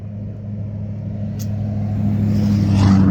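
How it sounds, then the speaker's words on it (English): Pickup trucks with loud aftermarket exhaust pipes passing on a road, a steady low droning rumble that swells and grows louder as they approach. "I don't know why these boys got these loud ass pipes on their trucks"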